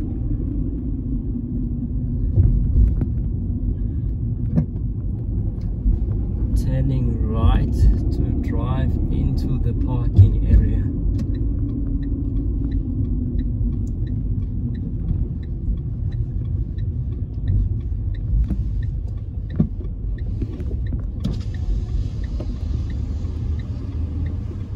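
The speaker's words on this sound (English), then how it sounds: "We are going to be turning right to drive into the parking area." A car rolls into the parking area at OR Tambo Airport, a steady low engine and road rumble heard from inside the vehicle, with a few faint clicks and rattles along the way.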